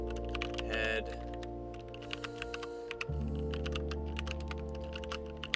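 Fingers tap on a computer keyboard in a quick, uneven patter of clicks and key presses, with brief pauses between bursts, set over a steady low background hum.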